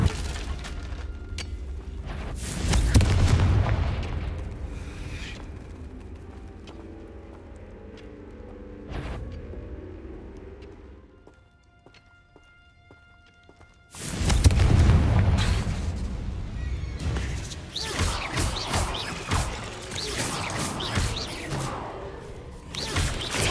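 Fire-blast Confringo spell explosions in the Hogwarts Legacy video game: a heavy boom early on, then after a quiet stretch a second loud blast followed by sustained rumbling, crackling bursts over game ambience.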